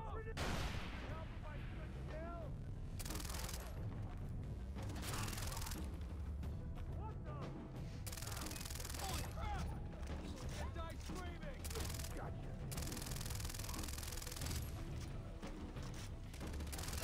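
Submachine gun fire in Far Cry 3 comes in repeated rapid bursts with pauses between them, loud and close over a busy game soundscape, while a voice talks throughout.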